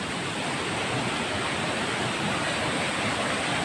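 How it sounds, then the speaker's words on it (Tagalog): Water flowing in a large creek, a dense, steady rushing wash heard close and unbroken, with no voices. "Ito na sapa guys."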